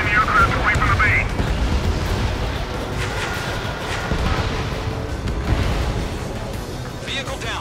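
Missile explosions blast an enemy vehicle in the Ace Combat 7 video game, a dense, loud rumble of booms that runs continuously under radio talk and game noise.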